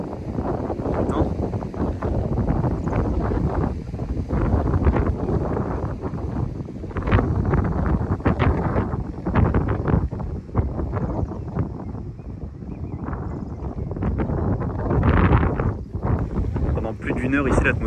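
Gusting wind buffets the microphone as a thunderstorm approaches on a hot day, a steady roaring rush with louder surges, while people talk excitedly throughout.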